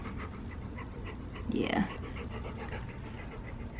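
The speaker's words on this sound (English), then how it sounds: "You probably can't hear me because of all this panting coming from over here." A dog, likely wearing a thunder jacket, pants steadily and rhythmically close by while a person speaks briefly over the breathing.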